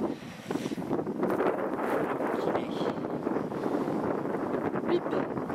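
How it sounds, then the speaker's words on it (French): Steady wind buffeting the microphone, a continuous rough rumble and rush outdoors with little variation throughout. "il y a du vent en plus"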